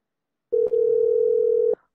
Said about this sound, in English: That's the first ring.